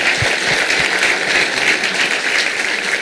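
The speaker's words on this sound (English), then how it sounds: "One more round of applause for him." Applause from an audience at a sports parents' meeting, a steady broadband clatter of many hands clapping throughout, fairly loud and close, with no talk over it.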